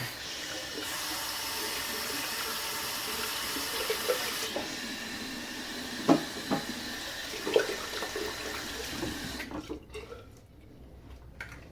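Water runs steadily from a tap as hands are rinsed beneath it, a continuous close splashing rush with a few louder splats as the hands move, easing off near the end; no one speaks.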